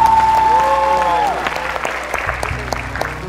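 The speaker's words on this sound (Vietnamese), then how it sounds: "Một tràng pháo tay lớn hơn nữa ạ." Applause from a live audience at a Vietnamese school reality-show event, loud and sustained, with a held musical tone early on and scattered crowd noise and voices mixed in.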